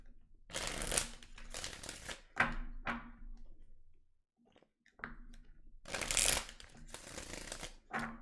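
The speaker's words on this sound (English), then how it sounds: "I shuffled the cards and it came right on out" Tarot cards are shuffled in several quick riffling bursts, close and crisp, with a short pause in the middle before the shuffling resumes.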